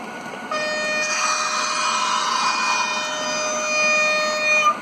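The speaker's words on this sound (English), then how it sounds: "Oh, it's blowing its horn." A container freight train sounds its horn in one long sustained multi-tone blast lasting several seconds, moderately distant and loud, over a low background rumble.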